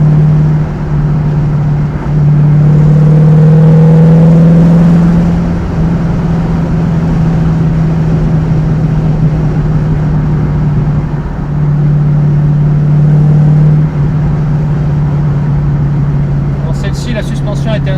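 A 1968 Ford Mustang GT with a 302 V8 pulls hard in second gear, its deep, steady engine drone running close and loud throughout while someone talks over it.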